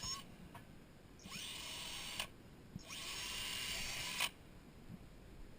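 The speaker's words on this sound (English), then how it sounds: "So we'll drill that" A power drill boring a 1/4 inch hole while mounting a scupper, heard in two steady whining bursts of a couple of seconds each with a brief pause between, fairly close.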